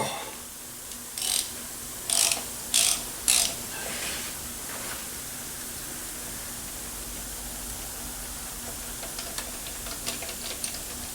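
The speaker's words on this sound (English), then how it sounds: "speed wrench." A ratcheting speed wrench clicks in a few quick, sharp bursts while loosening the driver's side front turbo bolt on a 6.0 Powerstroke turbo diesel Excursion engine, close by, followed by faint scattered clicks near the end.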